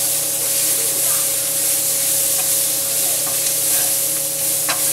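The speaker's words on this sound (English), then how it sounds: "I'm going to give my cabbage another big stir" Cabbage sizzles in a hot pan with a steady broadband hiss, while occasional scraping stirs and faint pops cut through the close, continuous frying.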